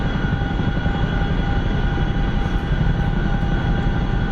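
A Chinook helicopter engine in the War Thunder video game, a loud, steady turbine whine and rotor drone running continuously without talk.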